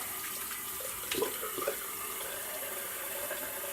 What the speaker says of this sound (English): So do the quick rinse off